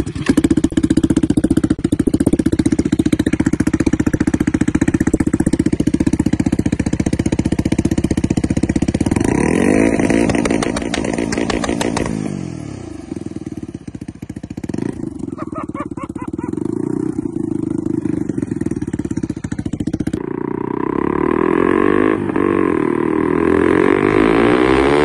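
A turbocharged Honda Grom motorcycle with a swapped CBR engine runs loud and close, holding a steady drone, then revving and accelerating hard with rising and falling engine pitch through gear changes as it is ridden.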